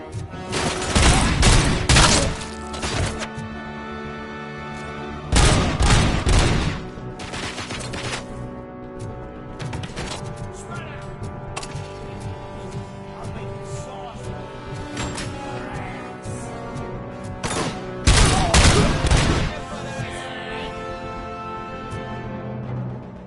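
Gunshots in RoboCop: Rogue City ring out in three loud, sharp bursts spaced several seconds apart, with quieter mechanical noise and ambience between the volleys.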